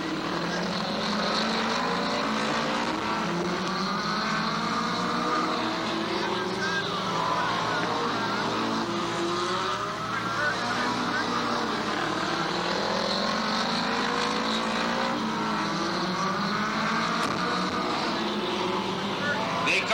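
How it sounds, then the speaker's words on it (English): Race cars roar around a speedway in a heat race, a dense continuous drone of engines with rising and falling passes, while an announcer talks over the noise throughout. "Fritz continues to hold on about a 2-3 car length lead over Butler in the 12 car."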